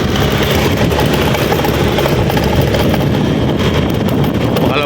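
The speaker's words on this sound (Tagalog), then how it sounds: "Makalampag ng aking motor eh. Ano, may basag na yung bearings." A motorcycle engine with broken bearings runs steadily and loudly up close, a continuous rough drone with a rattling, clattering texture throughout and no pause.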